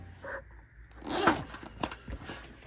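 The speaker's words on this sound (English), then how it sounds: "I've never seen waterproof zippers like this." A waterproof zipper on an EDC bag rasps as it is pulled, with a short burst of scraping and zipping at close range, plus some handling rustle around it.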